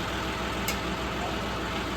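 A tractor engine idles at a workshop while a super seeder is hitched on behind, a loud, steady throbbing drone close by with no talking.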